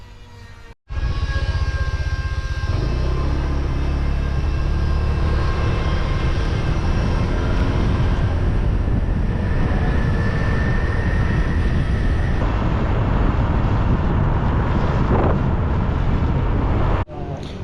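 A rented motor scooter ridden along a road in southern Laos gives a steady, loud engine drone mixed with heavy wind rush, starting after a brief thump and continuing without talk.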